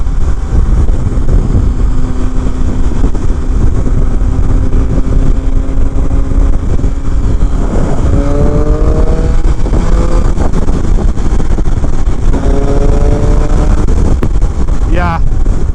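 2019 Triumph Speed Triple RS motorcycle engine held around 5,500 RPM on a ride, a steady loud drone with rising engine tones under heavy wind noise, and someone talking over it.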